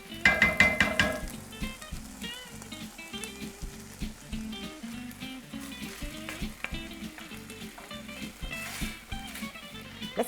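Tomato cooking in a pan for Venetian duck ragù, a continuous bubbling sizzle with repeated stirring scrapes and clinks, a louder burst at the start, close with no talk.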